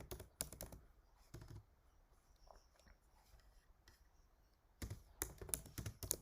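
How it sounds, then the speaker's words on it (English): Someone types on a computer keyboard in quick clusters of soft key clicks at the start and end, with a quiet pause between. "I'm going to type in like this"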